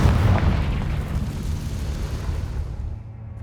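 A fiery Confringo spell blast in Hogwarts Legacy bursts at once into a heavy, rumbling explosion that rolls on for about three seconds and slowly dies away.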